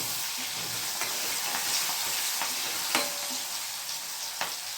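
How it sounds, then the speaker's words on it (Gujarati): Asafoetida and chopped green chillies sauté in hot oil for a sev tameta shaak, giving a loud, continuous sizzle. A spoon stirs and taps the pan several times, close by and with no voices. "એક ચમચ હિંગ આ બે લીલા મરચાં કટકાવેલા આપણે બરાબર સાતરી દઈશું"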